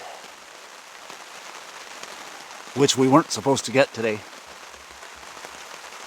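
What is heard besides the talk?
rain falling on a campsite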